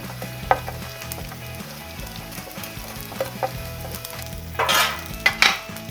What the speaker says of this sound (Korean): 멸치도 넣어주세요